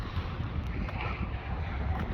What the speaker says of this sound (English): It's pretty damn windy.